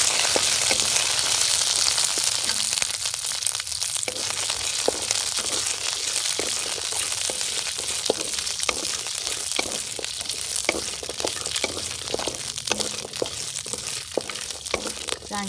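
Chili and garlic frying in fat in a Cambodian countryside kitchen give off a steady close sizzle with frequent crackles and pops, with no talking.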